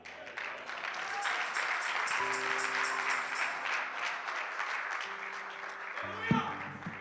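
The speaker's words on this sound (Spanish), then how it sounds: "Dale ese aplauso fuerte al Señor." A church congregation applauds loudly and steadily for several seconds at the close of a sermon, a broad wash of clapping with music and voices underneath and a brief bump near the end.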